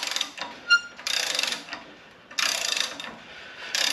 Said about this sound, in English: one of these breaker bars I got from Home Depot that's ratcheting, it works like a champ on this